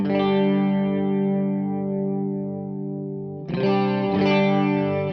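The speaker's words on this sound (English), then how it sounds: "I am not a huge chorus guy. I use it more of a widening effect," Electric guitar through a chorus effect on a Fractal FM9 used for stereo widening, two sustained chords ringing with a shimmering, wavering modulation, loud and close with no talking.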